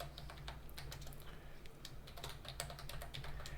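Typing a sudo apt install terminal command on a computer keyboard for a KVM virtual machine, with a steady run of quick, close key clicks over a low background hum.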